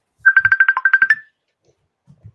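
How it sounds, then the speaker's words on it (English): A mobile phone ringtone goes off during a talk, playing a quick run of about a dozen bright, evenly pulsed electronic tones for around a second. It then stops, leaving near silence with only faint low thumps. "somebody's phone ringing."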